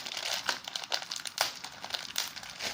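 A plastic bag of spaghetti pasta crinkles and rustles at close range for a few seconds, quiet and continuous, with small crackling bursts and no talking.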